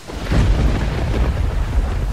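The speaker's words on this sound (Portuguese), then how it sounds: "Soou um trovão enquanto os amigos de Mickey se apressavam para entrar." A deep, rolling thunder rumble fills an animated Halloween story scene, loud and sustained with no clear single crack, heard alone without voices.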